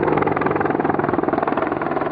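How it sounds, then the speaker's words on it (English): An Apache attack helicopter flies past with a loud, continuous, steady rotor thump and engine roar, heard alone without talk. "The Apache helicopter has fought in every U.S. conflict since it took to the skies during the Panama War."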